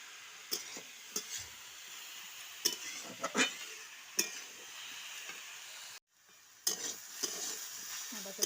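Spice paste sautéing in a pan, a soft continuous sizzle broken by stirring scrapes and light clinks of a spoon on metal, with a brief gap partway through and no talk.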